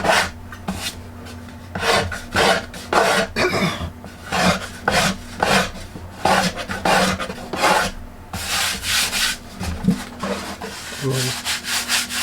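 A wooden churchwood pipe is sanded by hand in short, rhythmic rasping strokes, close and fairly loud, with brief pauses between bursts.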